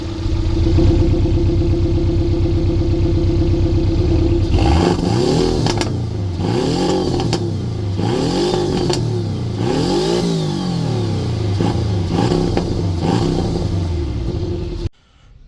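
Close-up Porsche 718 Cayman engine idling steadily, then revving repeatedly in rising and falling bursts, with small crackling pops as the revs drop, loud and alone.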